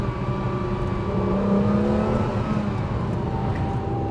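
BMW M1 sports car engine revving steadily while driving, a continuous loud mid-speed drone with rising harmonic tones from the in-car perspective, no voices.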